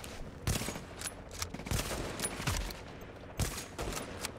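Bursts of automatic gunfire in Tom Clancy's The Division, rapid repeated shots in clusters with a few sharper louder cracks, close and fairly steady throughout.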